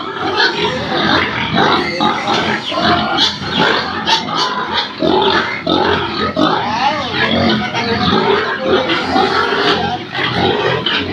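Many pigs on a pig farm grunt and squeal continuously, close and loud, a dense overlapping chorus of snorts and oinks.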